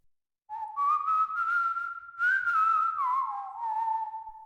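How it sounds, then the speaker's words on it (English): Someone whistles a slow, wavering melody in long sustained notes that bend gently up and down, clear and alone after a brief moment of silence. "I'm walking around and there's whistling in the background"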